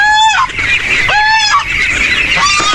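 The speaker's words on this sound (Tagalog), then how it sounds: "Si Gansa, ito yung matapang" A territorial farm goose, known for biting children, honks loudly and close by in three strident calls, each rising then breaking off, with brief gaps between them.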